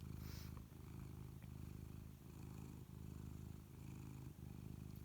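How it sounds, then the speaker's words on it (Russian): A cat purrs steadily and close by, a continuous low rumbling vibration pulsing in even breath cycles with no other sounds. "И мурлычет оно."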